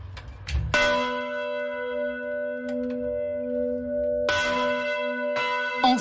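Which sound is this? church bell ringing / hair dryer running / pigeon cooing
church bell ringing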